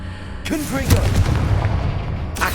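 A Confringo blasting spell explodes in the Hogwarts Legacy video game, a booming burst with crackling debris that starts sharply and fills the clip, with a second blast building at the end.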